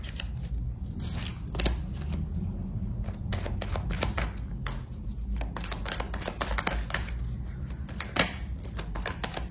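Tarot cards are shuffled by hand during a reading, a steady close run of papery riffles and flicks with a few sharper slaps.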